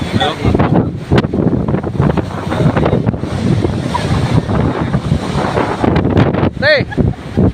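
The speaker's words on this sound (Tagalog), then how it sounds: "Lakas ang hangin." Strong wind buffets the microphone during an outdoor ride in Quezon Province, a loud continuous roar with rumbling gusts and people talking faintly underneath.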